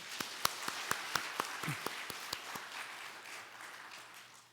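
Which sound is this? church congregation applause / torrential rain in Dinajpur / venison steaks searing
church congregation applause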